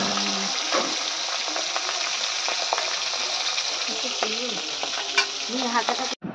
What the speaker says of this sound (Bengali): মা সবজির জন্য মাছের মাথাগুলো ভেজে নিচ্ছে